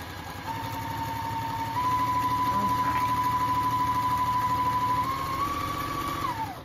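A Juki sewing machine runs at high speed with a continuous fast whirring buzz and a steady motor whine, holding a constant pace and slowing briefly near the end, close up and with no talk.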